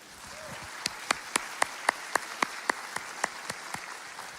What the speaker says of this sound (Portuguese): Uma salva de palmas para vocês aí.